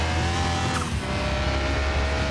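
A roaring car engine in Car Mechanic Simulator drones loudly and continuously, with a brief tire screech partway through, like a racing game.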